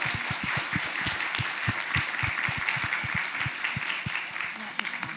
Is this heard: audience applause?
yes